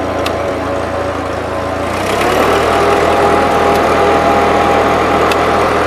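A 1941 Ford 9N tractor engine runs steadily and close by, its note dropping and thickening slightly about two seconds in as load is applied, then holding a constant rumble with no talk.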